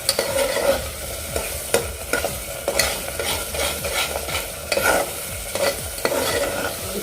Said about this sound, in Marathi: आता हे व्यवस्थित मिक्स करून घेऊया